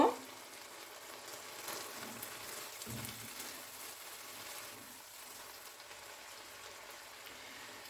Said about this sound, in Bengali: চিকেনটা পুরোপুরি সাদা হওয়া পর্যন্ত একটু ভালো করে ফ্রাই করে নিতে হবে।